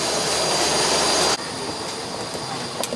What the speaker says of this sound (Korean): 프로펠러 비행기.